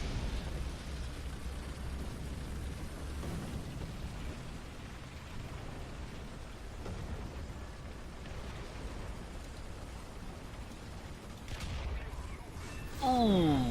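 Tank battle with American-made tanks in War Thunder: continuous rumbling cannon fire and explosions, with a louder burst near the end.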